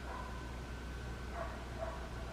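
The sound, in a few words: distant dog barking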